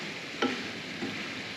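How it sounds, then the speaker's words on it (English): Browning filling for sweet and spicy Mexican wontons is being stirred in a pan, giving a soft, steady sizzle with a sharp scrape of the utensil near the start and a fainter one about a second later. "I'm just continuing to cook this brown, not just brown it, cook it all the way through and stir as you go"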